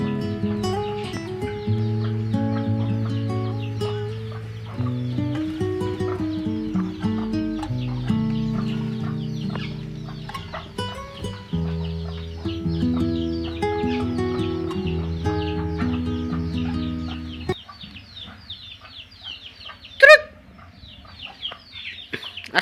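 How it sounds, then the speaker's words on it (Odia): Chickens and young chicks cluck and call while being fed rice, steady fowl chatter close by over a continuous tonal background, with a sharp brief squawk near the end. "ଆଉ କୁକୁଡ଼ା ଛୁଆମାନେ ଆଉ କୁକୁଡ଼ାମାନେ ବଡ଼ କୁକୁଡ଼ାମାନେ ସେମାନଙ୍କୁ ଟିକେ ଚାଉଳ ଦେବା।"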